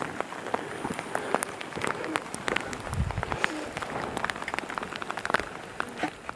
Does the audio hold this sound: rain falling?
yes